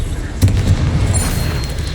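In Hogwarts Legacy, a Confringo spell explodes as a sudden booming burst, followed by a rumbling, crackling tail of blast noise that stays loud throughout.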